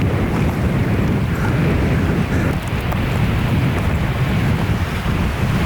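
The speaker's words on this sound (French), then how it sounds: "Moi j'avoue qu'avec le vent on comprend un peu rien." Heavy wind buffets the microphone in a constant low roar, with the wash of sea and surf in the Canary Islands blended underneath throughout.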